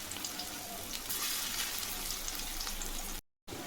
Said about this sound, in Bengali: এই যে বড়াগুলো সব ভাজা হয়ে গিয়েছে।